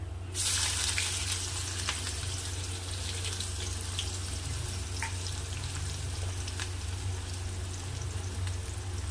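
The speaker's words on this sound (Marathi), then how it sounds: "कढीपत्ता कांद्याला छान असं परतून घ्यायचं आहे" Chopped onion and curry leaves sautéing in hot oil with cumin in a pan, a steady close sizzle and crackle running throughout with no talking.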